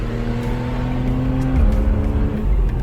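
A 2015 Porsche 911 Carrera 4S flat-six pulls hard under throttle, its steady engine tone holding before stepping down at a gear change and climbing again, loud and continuous from inside the car with no talk.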